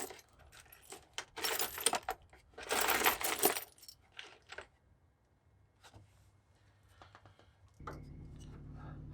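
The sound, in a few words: rummaging through loose Jeep nuts and bolts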